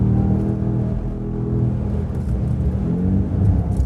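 A 717bhp BMW M5 hybrid car drives along, its engine humming in a steady low drone with gentle swells in pitch from inside the cabin, with no talk.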